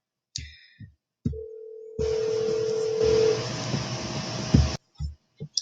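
Electronic telephone tones during a phone call in a classroom lecture setting: a few short beeps, then a long steady tone with a broad hiss beneath it, followed by scattered clicks, all fairly close and with no talking.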